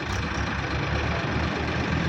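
A Farmtrac 60 EPI and a Powertrac Euro 50 Plus tractor idle together outdoors in mud, giving a dense, steady, loud diesel rumble with no breaks.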